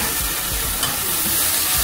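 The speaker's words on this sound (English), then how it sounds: "You hear that sizzle?" Steady sizzling of tomatoes frying in a hot pan, a constant crackling hiss with faint stirring, no voices.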